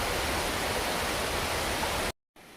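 A creek rushing along a hiking trail near Bald River Falls, a steady broadband roar of flowing water heard close and loud, cutting off abruptly near the end to near silence and a fainter hiss.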